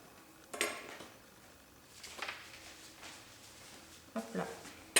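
Scissors cut fabric for a sewn Christmas boot in a few sharp, quiet snips spaced a second or two apart, with a voice talking softly between them.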